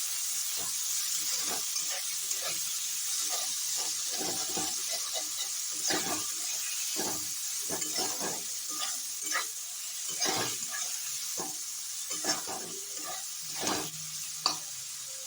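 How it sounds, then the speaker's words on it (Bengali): Chopped onions fry in oil with kalonji seeds for a Bengali rui posto fish dish, giving a steady close sizzle broken by scattered scrapes and stirring taps of a spatula throughout. "আমি পেঁয়াজটা একটু লাল লাল করে ভাজা ভাজা করে নেবো।"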